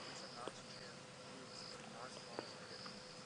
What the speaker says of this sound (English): You can hear the nightjars, some crickets.